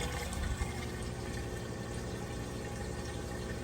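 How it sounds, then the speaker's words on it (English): Water drains steadily out of a Maytag washing machine at the end of its wash cycle, a continuous close rushing flow with a low pump hum, fairly quiet and unbroken throughout. "It is draining the water out now. You hear it draining there,"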